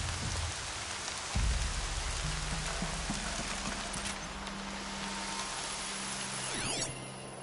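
Steady rain falls in Horizon Zero Dawn, a dense, even hiss on surfaces lasting throughout, joined by a low thump and hoof-like clopping, with no talk.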